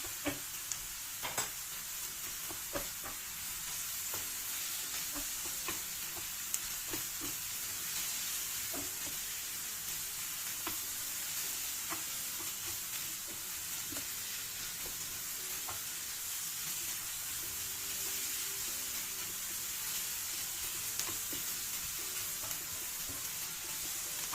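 Tomato and pepper paste fries in a pan, a constant soft sizzling hiss broken by small scattered crackles and stirring ticks over nearly half a minute, with no talking.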